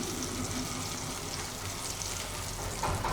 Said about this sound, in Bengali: ভাত ডালটা তেলে দিচ্ছি।